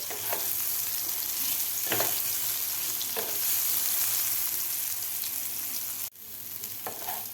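Soybeans frying in oil over a medium flame give a steady, close sizzle with occasional stirring scrapes, then a brief dip in level near the end before the frying carries on.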